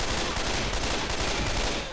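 Rapid gunfire in the zombie shooter Left 4 Dead 2 as a Boomer is shot, a dense continuous burst of loud shots with no gaps.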